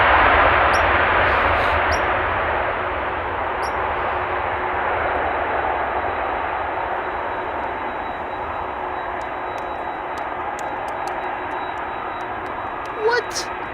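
An airliner landing at Amsterdam Schiphol roars with loud, broad thrust-reverser rumble that slowly fades over many seconds, with faint clicks and a brief bump near the end.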